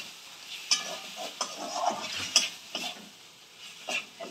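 Potatoes are stir-fried with a cooked spice paste in a pan, giving a steady sizzle broken by repeated scraping strokes of a spatula, close and moderately loud, with no voices.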